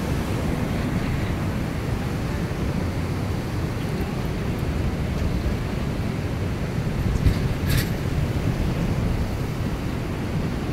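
Deep floodwater rushes during heavy rain in Himachal Pradesh, making a loud, steady, full-bodied roar that never lets up, with no voices over it.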